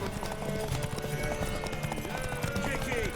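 Horse hooves clip-clop in a rapid, steady gallop during a race in The Witcher 3: Wild Hunt, with voices calling out over the running hoofbeats.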